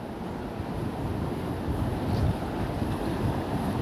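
A constant loud rush of a stream swollen after two days of heavy rain, broadband and unbroken, close by with no voices.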